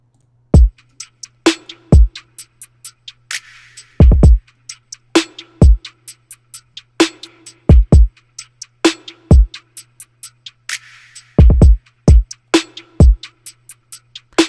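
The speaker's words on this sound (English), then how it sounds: "I'm going to have the percussion loop play in the actual backdrop of the drums though." A steady electronic drum pattern made in FL Studio, with punchy low kicks and sharp snare hits over a fast, ticking percussion loop, repeating in a tight, even rhythm.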